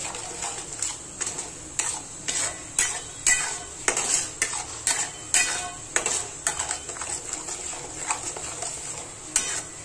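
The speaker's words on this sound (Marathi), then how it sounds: "हा मसाला एकदम चांगला तेल सुटेपर्यंत भाजून द्यायचं" Ground masala roasting in oil for matki misal gravy, a low frying sizzle under frequent rhythmic scrapes and taps of a spoon stirring against the pan.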